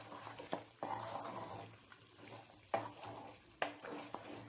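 Mutton karahi being stirred in a pan with green chilli and ginger julienne, close scraping and stirring strokes over a steady background sizzle, with a few sharper knocks of the utensil against the pan.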